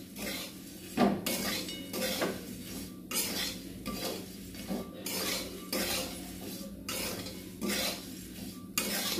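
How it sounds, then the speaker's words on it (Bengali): Chira, flattened rice, fries in a pan at home while a utensil stirs it in a regular rhythm, about eight scraping, clinking strokes against the metal, fairly close and moderately loud. "আমি চিড়ে ভাজছি।"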